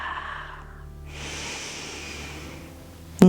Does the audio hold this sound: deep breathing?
yes